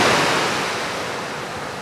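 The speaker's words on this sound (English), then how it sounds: "the wind's definitely got up" Wind gusts over breaking surf at Brighstone Bay beach on the Isle of Wight, a steady loud broadband rush with no voices.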